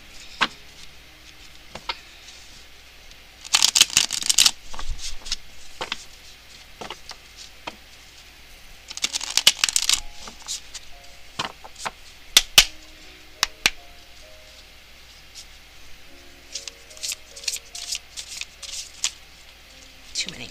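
Tarot cards are shuffled by hand in several brisk, riffling bursts, close to the mic, separated by quieter stretches where a voice speaks softly.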